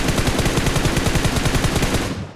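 A loud, sustained burst of rapid automatic gunfire in PUBG Mobile rattles off in a fast, even rhythm before cutting off abruptly.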